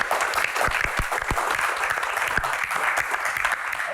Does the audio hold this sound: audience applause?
yes